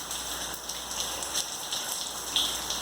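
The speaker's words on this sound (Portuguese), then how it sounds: "O que não choveu de outubro até hoje, está chovendo nos últimos 3 dias" Steady rain falls on an outdoor surface, a dense, continuous patter with scattered sharper drops, moderately loud and with no voices.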